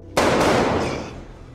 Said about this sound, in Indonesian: tiba-tiba ia mendengar suara tembakan dari arah luar.